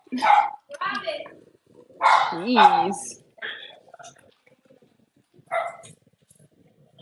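A Cavalier dog barks in short bursts indoors, a few sharp yips and woofs spaced out with quiet gaps, close and moderately loud, with a person speaking briefly.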